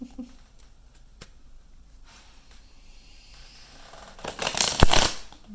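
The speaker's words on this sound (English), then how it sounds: "shuffling these cards" Deck of oracle cards being shuffled, with faint soft rustles and a burst of louder riffling near the end, heard close up in a quiet room.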